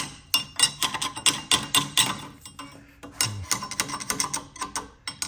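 Rapid metal-on-metal hammer taps drive a rust-stuck rear axle bearing race out of a 2011 Jeep Wrangler Sport, sounding as close, sharp, irregular strikes in quick bursts with brief pauses.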